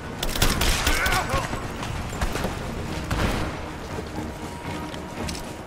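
Gunfire in Rise of the Tomb Raider, a dense run of rapid shots and bursts filling the scene, loud and close, with game voices calling out over the shooting.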